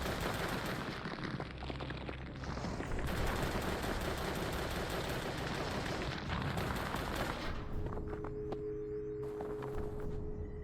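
Rapid gunfire from shooting bones in the video game Drake of the 99 Dragons, dense bursts of shots running nearly continuously and loudly over busy game sounds, thinning near the end.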